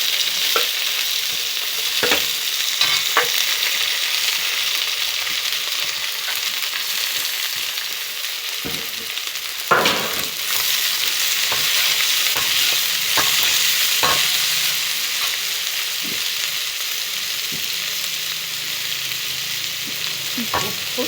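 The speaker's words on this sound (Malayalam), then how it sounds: "ഇതെല്ലാം കൂടെ ലോ ഫ്ലെയിമിൽ കുറച്ച് ഒന്ന് വാടാൻ വേണ്ടി അടച്ചു വെക്കാം." Onions, shallots and green chillies sautéing in a pan for chicken curry, a loud steady sizzle broken by sharp spoon scrapes and clinks at irregular intervals, no voices.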